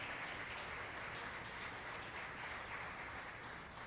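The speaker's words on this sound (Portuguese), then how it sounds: "Pode aplaudir ao Senhor por isso." A church congregation applauds during a sermon on the resurrection, a dense, even wash of clapping heard from a distance and sustained throughout without pause.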